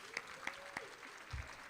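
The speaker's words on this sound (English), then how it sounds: "let's give Luisa a big round of applause" Faint, distant applause at a community gala for the director of communications, with a few sharper individual claps standing out from a thin crowd wash.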